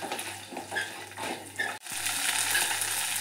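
Chicken pieces being stirred and dry-fried in a pan over a low flame for a Mangalore-style chicken dry, giving a steady soft sizzle with scraping spoon strokes and no talking.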